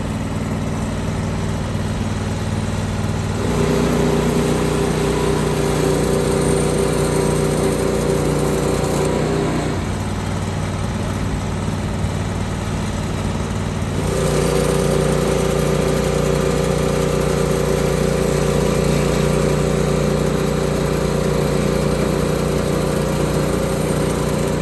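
HD36V2 sawmill cutting a frozen white oak crotch log: a steady engine drone with a whining blade tone rising under load for two stretches of cutting, close and loud, with no talking.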